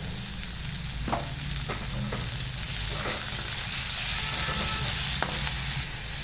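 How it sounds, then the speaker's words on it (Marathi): Chopped tomatoes sauté with salt in a hot pan, a steady loud sizzle filling the whole stretch, with a few soft stirring clinks of a spoon against the pan. "टोमॅटोला छान असं परतून घेऊ आणि त्याच्यामध्ये थोडंसं आपण एक अर्धा चम्मच मीठ टाकून घेऊ"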